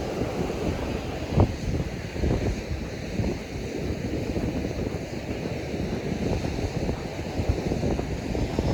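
Strong wind buffets the microphone in a constant roaring rush, with gusty bursts and no voices, at Washington Oaks Gardens State Park in Palm Coast, Florida.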